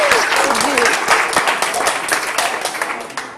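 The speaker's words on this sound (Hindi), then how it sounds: "हम दोनों के लिए तालियां भी हो जाए।" Loud studio audience applause on a Sindhi television game show, dense continuous clapping close to the microphone with a few voices and cheers mixed in, tapering slightly toward the end.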